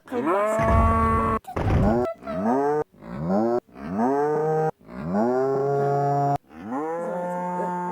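A cow in the video game Deeeer Simulator moos repeatedly, long drawn-out lowing calls one after another, loud and close, with abrupt cuts between them.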